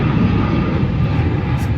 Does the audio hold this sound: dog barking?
no